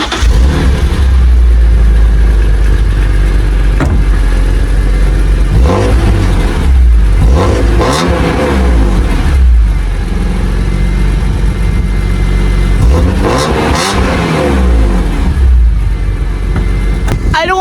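A BMW E46 M3 engine, still cold, rumbles close by, revving up several times in surges over a deep idle, with some talking underneath.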